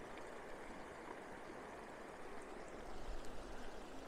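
Rio Grande river water flowing along a mountain trail, a steady broadband rush and babble heard close and continuous, swelling slightly louder near the end, with no voices.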